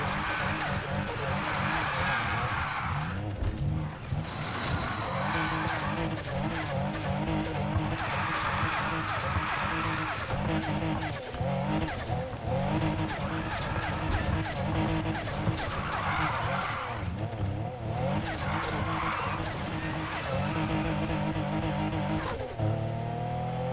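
A car drifting in the NFS Heat racing game, with a loud, continuous engine roar and sustained tire squeal that swells and fades across several slides, dense and unbroken throughout.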